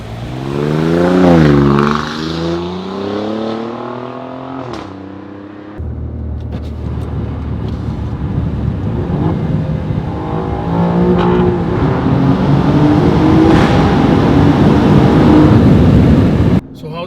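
Alfa Romeo Giulia Quadrifoglio engine pulling hard in dynamic mode, a loud rising rev with clear gear shifts, then a steady building roar from inside the car as it accelerates.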